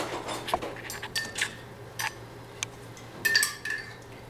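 A tablespoon scrapes blackberry pie filling out of a container, giving a few soft, close scrapes and light clinks against the sides, spaced irregularly and fairly quiet.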